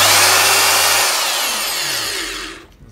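A rotary hammer drill runs loud and steady at close range, its whine sliding lower before winding down and cutting off.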